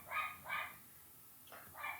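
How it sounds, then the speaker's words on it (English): A dog barks in the distance, four short, faint yaps in two quick pairs over about two seconds against quiet room noise. "That damn dog is loose again."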